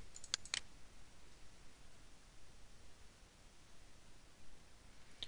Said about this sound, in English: Now double click button 1.